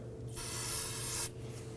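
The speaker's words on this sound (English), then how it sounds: "So if you spray the inside of that hose a little bit" A steady hiss of aerosol solvent sprayed from a can into a fuel hose on a 2008-2011 Ford Focus 2.0L, lasting about a second, close by, over a low mechanical hum.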